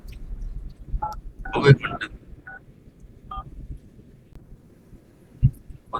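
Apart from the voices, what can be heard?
phone keypad dialing tones, Redmi Note 9 Pro Max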